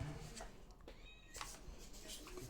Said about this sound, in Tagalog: Ayos yung pusa mo yun.